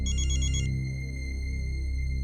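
A phone ringtone chirps in a quick electronic trill for about half a second, followed by a sustained steady tone that holds to the end, loud and close with no talking.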